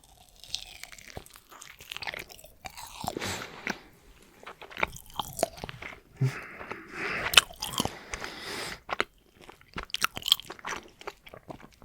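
Freshly baked cannelés bitten and chewed up close, with repeated crisp crunches and soft, wet chewing in irregular bursts and no talking.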